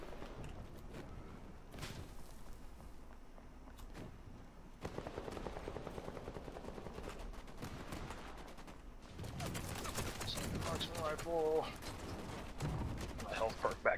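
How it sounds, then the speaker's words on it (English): Gunfire in Vampire: The Masquerade - Bloodhunt during a team deathmatch, with scattered shots and bursts that thicken into a dense, louder volley in the second half, heard over game noise and a talking player. "There are bullets everywhere, but I can't see where a single one of them is even coming from."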